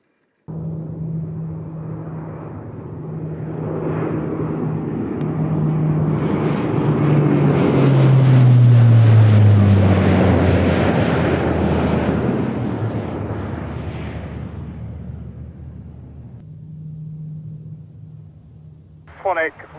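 Eurofighter Typhoon jets flying low level pass overhead in a long roaring swell that rises to a loud peak midway and then fades, over a steady low hum.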